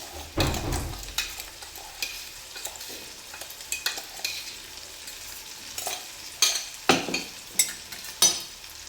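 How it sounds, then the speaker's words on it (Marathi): Garlic, ginger, green chili and coconut paste sautéing in a pan for a dried bombil curry, a low steady sizzle broken by repeated scraping stirs of a spoon, close and moderately loud. "यालाही चांगलं परतून घ्यायचं आहे, लसणाचा, अद्रकचा उग्रवास जायपर्यंत"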